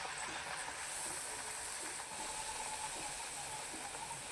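Chicken vade dough sizzles in hot oil as a loud, even, hissing crackle that stays constant throughout, with no voices.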